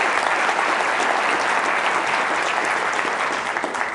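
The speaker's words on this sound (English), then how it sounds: "give them a round of applause as they come up." A theater audience at a stage magic show applauds as volunteers walk up, a loud, even wash of many hands clapping continuously without a break.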